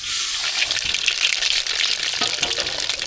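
Mustard seeds sizzle and crackle in hot oil for a cabbage stir-fry, a steady loud hiss with faint popping, close up and without talk.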